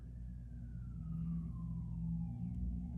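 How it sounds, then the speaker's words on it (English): Siren wailing in a slow falling sweep at a distance, steady beneath a continuous low rumble of traffic or engine noise. "I hear sirens."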